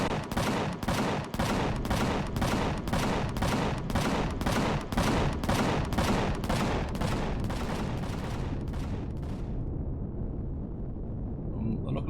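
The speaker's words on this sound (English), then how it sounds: "Fire on them until they're dead, or just let the cannons do the donkey work." Cannons fire in rapid succession in the space-survival game Empyrion Galactic Survival, Alpha 12, roughly fifteen sharp booming shots at an even, quick rhythm over a constant rumble, loud and close, before the barrage stops and a low hum remains.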